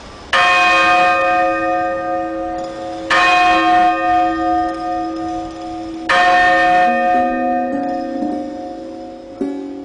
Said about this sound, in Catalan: és la campana més antiga de totes les que hi ha a la Corona d'Aragó